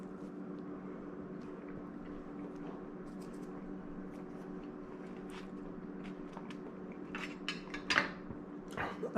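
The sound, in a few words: biting into crispy thin crust pizza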